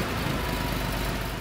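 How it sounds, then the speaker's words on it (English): A 1981 Porsche 930 Turbo Carrera engine runs at a steady idle, a close, even and continuous rumble with no break or rev change. "Motor sounds great"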